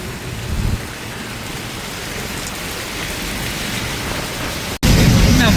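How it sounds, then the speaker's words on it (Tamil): Heavy rain pours steadily in a dense, loud hiss, with a brief cut and then an even stronger burst at the end; a voice speaks faintly beneath it. "என்ன மழையா பாருங்க"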